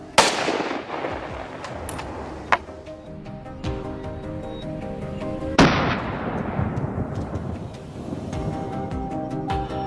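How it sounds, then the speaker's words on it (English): A hunting rifle fires a sharp, loud shot that rolls away through the hills, followed mid-clip by a second heavy blast with a long decaying echo. "That first gunshot echoes through the hills, marking the official start of the hunt."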